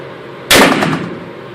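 A single sharp gunshot cracks out close and loud after a brief quiet moment, then fades quickly with a short echoing tail.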